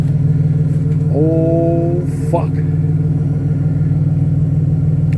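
A Pontiac Grand Prix GTP with the L67 supercharged engine and a 3-inch exhaust rumbles loudly and steadily nearby, with a brief rising rev tone and a short exclamation from a man over the deep drone.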